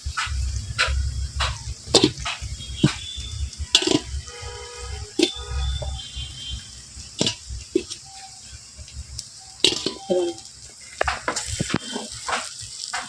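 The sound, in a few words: stir-frying cooked rice with egg in a pan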